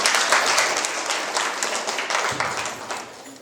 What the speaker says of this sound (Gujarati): તાળીઓ પાડજો એમના માટે.